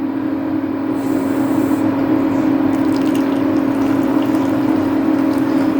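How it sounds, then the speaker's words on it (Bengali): Masala tea poured from a pot into a cup in a home kitchen, a steady close liquid stream with a constant hum running the whole time, no talking. "চাটা কিন্তু আমি একটা কাপে ঢেলে নিচ্ছি"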